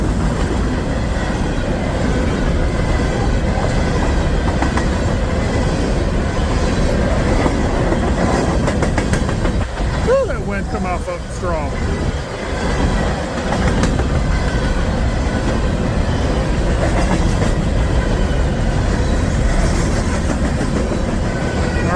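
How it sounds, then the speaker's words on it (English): A northbound hopper freight train rolls through Arlington, a loud, sustained rumble of cars and rhythmic wheel clatter that holds steady for over twenty seconds, with a brief voice heard midway. "Northbound hopper train going through Arlington."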